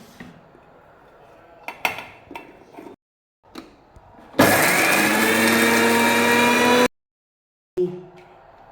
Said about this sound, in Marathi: ते मी मिक्सरला छान वाटून घेते